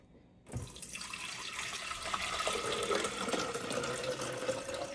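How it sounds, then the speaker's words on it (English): Water runs steadily from a tap into the tank of a CUSIMAX 20-bar compact espresso machine, a continuous close splashing fill that starts abruptly after a brief silence and holds at an even level to the end. "Let's add some water inside."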